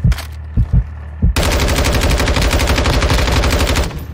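Gunfire in the video game Call of Duty Warzone 2.0: a few separate loud shots, then a sustained rapid automatic burst with a fast, even rhythm, close and dominant.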